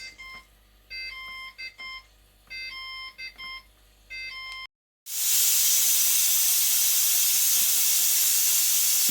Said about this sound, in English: You get an alarm just to remind you, and then the steam releases, the pressure releases.